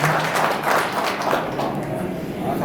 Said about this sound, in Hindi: जोरदार तालियां बजा करके स्वागत कराएं